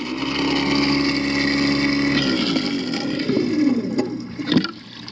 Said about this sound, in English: This food waste disposal has 1 horsepower, which is kind of cool.